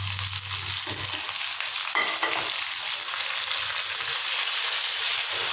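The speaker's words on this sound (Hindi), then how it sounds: "प्याज दोनों गोल्डन हो चुके हैं। मैं टमाटर डाल दूँ।" Tomato and green chilies frying with golden onions in a pan, a steady bright sizzle close up, with a brief stir or scrape partway through and no talk.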